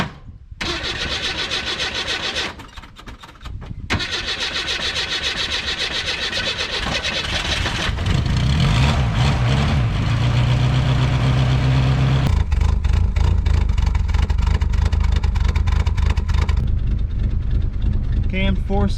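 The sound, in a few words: cammed 4-cylinder engine idling at about 700 RPM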